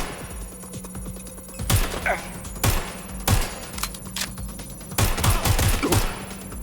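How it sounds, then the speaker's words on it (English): Gunfire in the video game Watch Dogs Legion cracks out in loud bursts of several rapid shots over a steady background hum, with game voices speaking in between. "Shots fired!"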